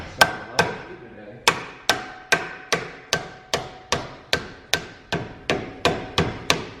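Repeated sharp hammer blows drive a suspension part into place during a BWoody Performance Trackhawk suspension kit install, about fifteen evenly spaced metallic whacks, loud and close, with no talking.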